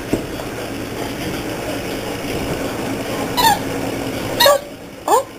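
A chihuahua puppy chews a squeaky toy, giving three short, sharp squeaks near the end over a steady background hum.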